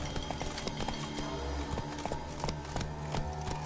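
Roach, the horse in The Witcher 3 video game, trots with a steady run of hoof clip-clops, the beats evenly spaced and fairly close over a constant background hum.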